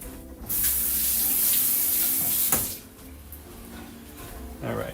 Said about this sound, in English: I'm gonna rinse this off real quick.